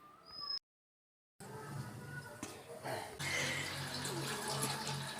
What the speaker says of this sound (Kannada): 3 ಚಂಬು ನೀರು ಹಾಕೋದು.